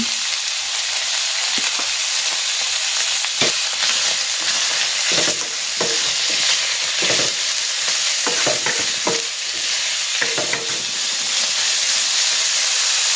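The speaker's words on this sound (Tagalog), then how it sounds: "Igigisa ko na dito yung hinimay kong chicken" Shredded chicken sautéing in a pan with toasted garlic and onion for chicken sotanghon soup, a loud, steady hissing sizzle broken by repeated scraping stirs, without any talk.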